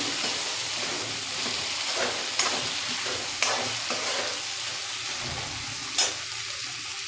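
Cluster beans frying in hot oil for dahi gavar, a steady close sizzle with occasional sharper crackles and spatters as the pan is stirred.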